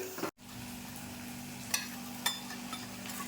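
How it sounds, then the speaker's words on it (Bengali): Masala spice paste being stir-fried in a pan gives off a soft, steady sizzle with a few light scraping stirs, close and faint, and nobody speaking. "মশলাটা একটু স্লো আছে আমি কষিয়ে নেব"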